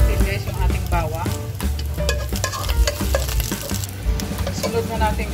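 Garlic hits hot cooking oil in a pan for a Filipino fish tinola, giving a steady close sizzle with frequent scraping and stirring clatter over a low background hum.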